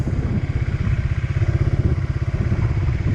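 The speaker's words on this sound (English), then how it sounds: "you will actually hear the power of the motorcycle matching with the gear or with the throttle" A motorcycle engine thrums close by in quick, regular low pulses as the bike pulls away from a stop under gentle throttle.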